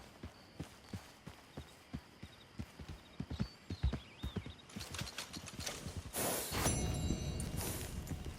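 In Red Dead Redemption 2, clip-clop of horse hooves, a steady trot of single sharp hits that grows into a louder, busier gallop with rushing noise toward the end.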